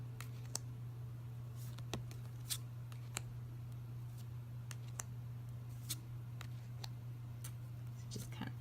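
Someone flips through a deck of tarot cards, producing soft, sporadic card clicks and snaps spaced out over a steady low hum, with quiet talking.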